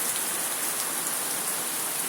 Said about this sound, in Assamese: লাহে লাহে দিয়ে আছে বৰষুণ